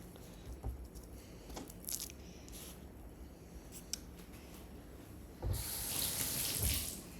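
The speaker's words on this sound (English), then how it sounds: "Rinse the fingies." Fingers rinsed under a running kitchen tap while cooking steak: faint small handling noises, then a soft steady gush of water into the sink for about two seconds, quiet and close.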